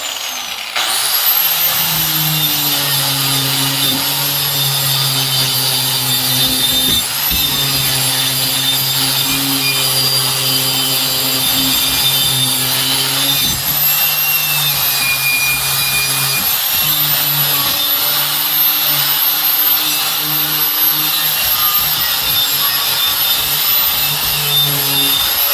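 A power grinder works a metal water crossover for a Sullivan intake manifold, a loud, close, steady whine that briefly dips and resumes several times as the tool is repositioned, with no talking.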